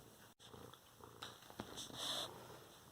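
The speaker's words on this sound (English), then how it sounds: "Purring in the ear." A soft, continuous cat purr rumbles very close and faint, with a few small rustles and a brief sharp click partway through.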